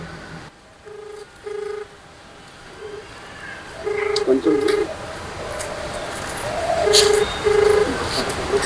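A mobile phone is dialed, giving a run of short keypad tones in uneven bursts over outdoor traffic noise, with more beeps toward the end.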